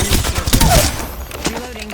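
Rapid bursts of gunfire in the video game Apex Legends, loud and close, with repeated sharp shots over busy game sound effects in a battle against another squad.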